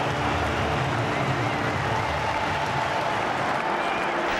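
Rugby crowd in a stadium applauding a prop's 100th cap at an England v France Six Nations match, a dense, steady wash of clapping and cheering that holds at full level throughout, broad and distant.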